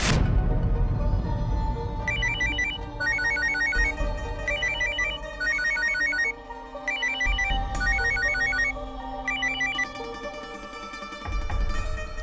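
A mobile phone rings unanswered in a hotel room, its bright looping ringtone melody repeating in steady bursts over a soft musical drama score for the whole stretch.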